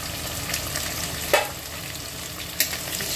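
Chopped medium onions frying in hot oil in a pan for chicken biryani, a steady close sizzle throughout with two brief louder scrapes of stirring, no voices.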